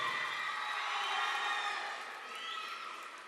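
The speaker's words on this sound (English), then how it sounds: "Please give him a big round of applause." Audience applause for a school award winner at a cultural programme prize distribution, a steady wash of clapping and crowd noise heard at a distance, fairly faint and continuous, with no talk over it.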